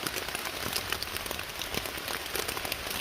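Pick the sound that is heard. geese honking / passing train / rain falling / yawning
rain falling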